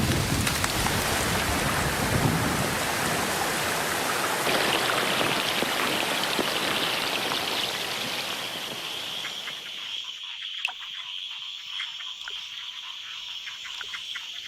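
Steady pre-dawn rain shower pours over a Belize forest, a dense close hiss of drops that thins and tapers off toward the end, leaving scattered drips and faint high frog or insect calls.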